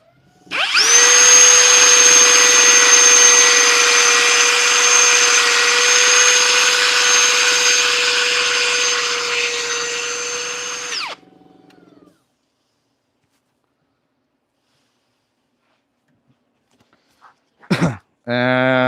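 A power drill spins fine-grit sandpaper against turned cherry wood, a loud steady whine holding for about ten seconds, then winding down and stopping, followed by silence and a brief clatter near the end.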